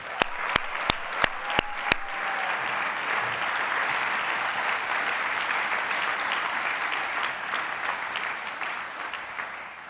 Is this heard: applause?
yes